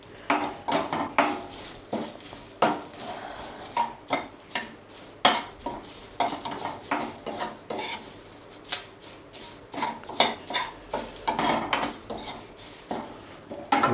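Curry leaves roasting in a pan for crispy roasted-poha chivda, stirred constantly with a metal spoon, giving a busy run of clinks and scrapes against the pan over a low sizzle, close and without talk.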